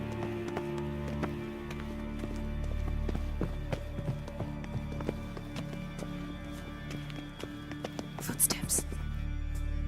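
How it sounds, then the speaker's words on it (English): Footsteps approach during a memorial banquet in The Witcher 3, a brisk run of light, regular taps over a low ambient hum, with voices talking nearby. "Footsteps."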